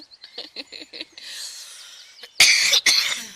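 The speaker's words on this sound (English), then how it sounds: "sorry for the cough" A handful of short rasping coughs, then a pause and two harsher, louder coughs close to the mic, with faint birdsong behind.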